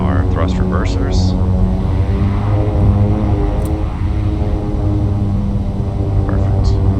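King Air 350 turboprop engines in X-Plane 11 roaring steadily during a thrust reverser test, a loud continuous propeller drone with harmonic hum throughout, with a voice talking over it.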